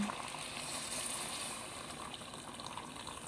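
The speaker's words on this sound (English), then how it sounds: "I'm going to add water." Water pours steadily into a pan of chana dal in a home kitchen, a continuous close hissing gush with no speech over it.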